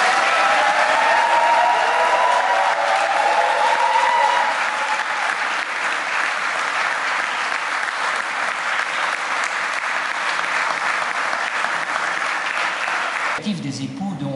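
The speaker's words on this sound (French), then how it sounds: "on peut encore une fois les applaudir" Wedding guests at a civil ceremony in Woluwe-Saint-Pierre break into loud, sustained applause that carries on for several seconds, with voices heard briefly underneath.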